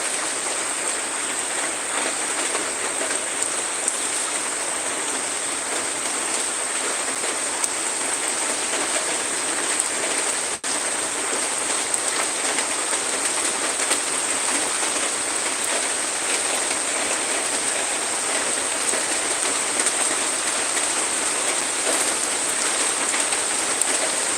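Heavy monsoon rain pours without letup over a flooded neighbourhood, a dense, even roar of drops on water and surfaces, close and loud throughout.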